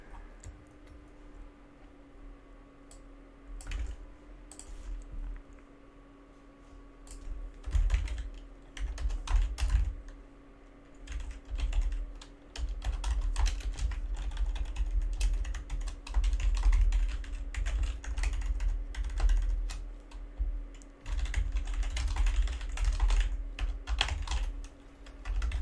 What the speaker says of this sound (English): Lots of typing here.